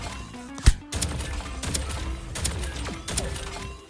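Hans's pistol firing in Deceive Inc., a burst of sharp shots at close range, one hard crack followed by several rapid reports with mechanical clatter between them, no voices.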